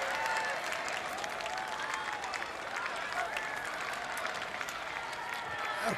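A large crowd outside the Welsh Parliament claps and cheers continuously for the visiting King, dense and sustained applause from many people at a distance, with faint voices mixed in.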